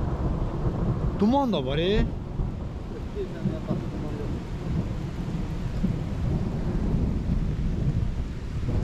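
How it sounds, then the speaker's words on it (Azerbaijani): Rain falls steadily in a mountain village, a dense continuous hiss with low rumbling underneath. A voice speaks briefly near the start. "burada yağış dayanmır ki"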